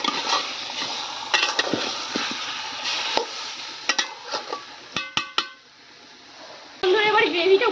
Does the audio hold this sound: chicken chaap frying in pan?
yes